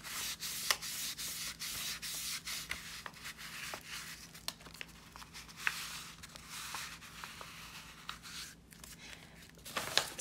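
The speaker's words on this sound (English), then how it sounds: "Let me get a wet one and get some of that glue up." A wet wipe scrubs glue off paper in an envelope journal, giving soft, close rubbing and scraping strokes with a few crinkles. The strokes repeat in quick, uneven bursts and stay quiet throughout.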